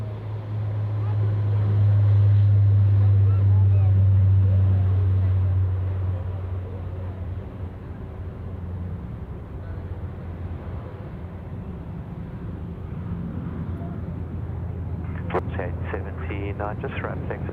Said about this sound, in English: We're gonna feature a Dash 8 now, rolling off runway 34 left